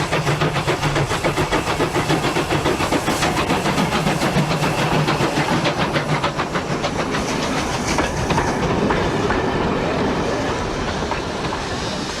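A British steam locomotive train runs close by with a loud, continuous rumble and a rapid rhythmic clickety-clack of wheels on rail joints throughout, without talk.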